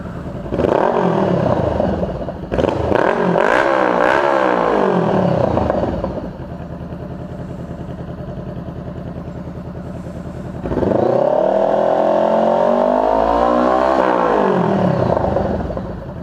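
A Harley motorcycle with a Coffmans exhaust and no baffle revs loudly in two bursts that rise and fall, settling into a lower, steady idle between them.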